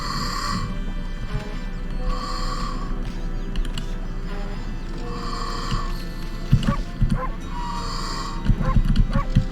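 A cartoonish in-game dog in Okami HD barks several times, short yaps standing out over looping game music and sound effects that carry on throughout, the barks bunched toward the end.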